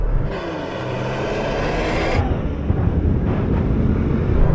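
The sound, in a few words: cars racing and accelerating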